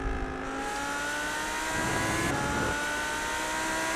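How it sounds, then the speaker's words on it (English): A 2020 Lamborghini Huracan GT3 race car at Sebring in a racing sim, its engine droning steadily with a rising and falling tone, loud and close, with no talk. "Lamborghini Huracan."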